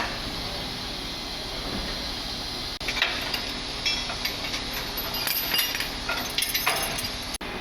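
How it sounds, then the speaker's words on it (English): Chains being undone from a trailer tongue and dolly, with scattered metallic clinks and rattles over a steady outdoor hiss, growing busier in the second half. "So that undo the chains holding the tongue up, undo the chains and straps holding the dolly straight."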